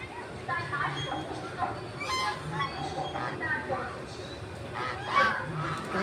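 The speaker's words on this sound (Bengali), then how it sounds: "আর এই হচ্ছে রাজহাঁস" A swan honks among pigeons in a bird enclosure, several nasal, goose-like calls breaking through at moderate distance, with a person talking over them throughout.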